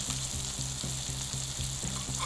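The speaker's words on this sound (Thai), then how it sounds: "ผัดให้พริกสุกครับผม" Three-colour bell peppers stir-fry in a hot pan, a steady loud sizzle broken by regular scraping stirs, with no voices.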